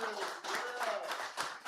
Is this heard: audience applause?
yes